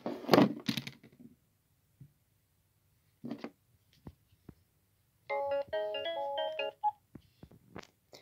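Pinephone running Manjaro KDE Plasma Mobile plays a short melodic ringtone for an incoming call, clear and close, after a few scattered knocks and taps in a quiet room.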